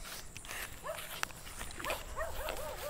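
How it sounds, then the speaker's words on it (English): A dog barks from some distance outdoors, with several rising and falling calls spread across the clip over steady background noise and a single sharp click, with no talking. "There's a dog barking at us."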